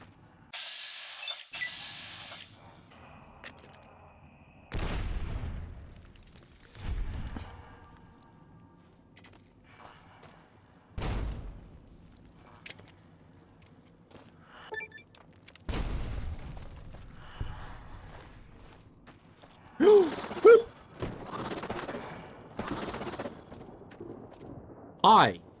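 Frag grenade explosions and gunfire in Fallout New Vegas, several deep booms spaced seconds apart amid sharper shots and bursts, with a voice talking between them.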